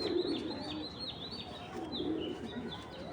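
A healthy 22-band pigeon coos softly under a steady hum, with faint chirps from other birds and no talk.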